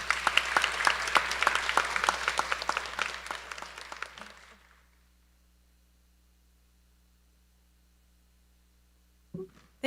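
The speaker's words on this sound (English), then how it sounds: "Nous vous applaudissons." An audience claps at a French Honor Society induction during an honors night, a dense burst of applause from a crowd that fades out after about four seconds into near silence, with a brief bump at the end.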